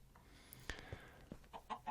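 Chicken in a Minecraft-style blocky video game gives a few short, soft clucks spaced across a quiet scene, faint and close with brief gaps between calls.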